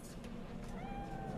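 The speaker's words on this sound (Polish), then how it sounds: "Kot!" A cat in the futuristic city of Cyberpunk 2077 lets out a faint, drawn-out meow, rising then falling, partly buried under a steady murmur of ambient city noise.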